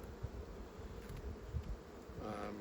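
Honey bees buzzing steadily in an open hive during an inspection, a low continuous drone that is faint and close, with occasional soft knocks and no talk.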